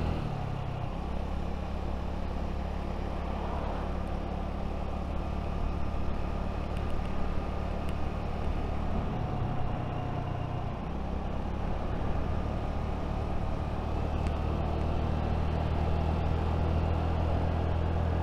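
Small Honda Navi motorcycle ridden along River Road near Prospect, Kentucky: a steady low engine drone and road rumble with wind noise runs the whole time, close and even, with a slight shift in pitch partway through.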